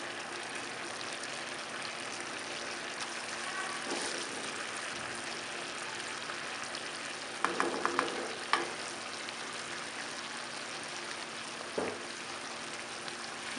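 Chickpea curry sizzles steadily in a pan with mashed potatoes stirred in, a soft continuous fry with a few brief clinks and scrapes of stirring partway through.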